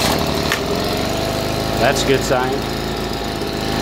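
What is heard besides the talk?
Stihl leaf blower engine running after carburetor fix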